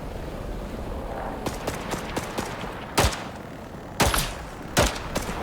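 Scattered gunshots in the video game Icarus ring out at irregular intervals, a few sharp and close, others lighter, over a steady low background rumble with no talking.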